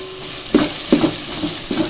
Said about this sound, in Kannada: ನೆಕ್ಸ್ಟ್ ಇವಾಗ ಕರ್ಬೇವು ಸೊಪ್ಪು ಹಾಕೋತಿದ್ದೀವಿ